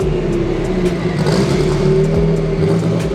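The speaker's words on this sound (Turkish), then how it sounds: "Yani bunda büyük ihtimal G25, G30 tarzı bayağı büyük bir turbo var. Yani turbodan gelen spool sesinden belli." A tuned Nissan Silvia at a Japanese car festival, fitted with a large G25 or G30 style turbo, revs close by with a steady droning engine note and a rising whir of turbo spool, no talking.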